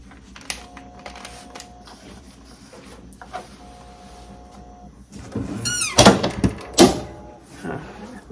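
A drawer slides into a laminating or pressing machine, a series of soft scraping and rubbing clunks that grows louder and busier, with sharp knocks and a brief squeak near the end.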